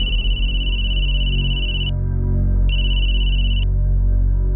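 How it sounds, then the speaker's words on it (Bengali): An outgoing phone call ringing back on the line, two long electronic ring tones separated by a short gap, loud and close over a low background hum, with no voices. "আমি সুনীলকে ফোন করছি।"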